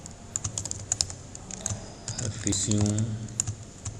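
Rapid clicks of a computer keyboard as code is typed in an ASP.NET job portal project, with a brief spoken word partway through.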